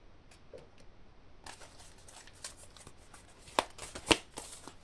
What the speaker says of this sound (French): J'ai envie de tirer une dernière carte ici.